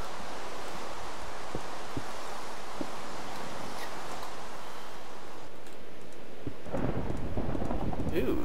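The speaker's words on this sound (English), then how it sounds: "Thunderstorm." Steady rain hisses throughout a video game thunderstorm, with a few soft thuds and a low rumble swelling near the end, continuous and fairly loud with no voices.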